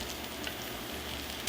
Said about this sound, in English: let's saute the mushrooms